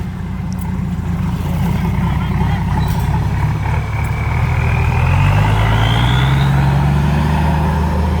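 Soil-carrying six-wheel truck arriving at a work site, its loud diesel engine rumbling steadily close by, with a rising whine as it moves in and faint beeps in the background.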